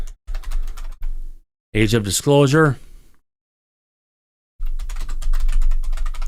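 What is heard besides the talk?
typing on a computer keyboard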